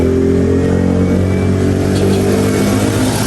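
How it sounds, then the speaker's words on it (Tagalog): Steady road traffic along a highway, a continuous loud engine roar and tire rumble as cars and motorcycles pass close by, with no voices. "Kaya kapag ka po may dumadaan ng mga sasakyan ay maingay po talaga, rinig na rinig."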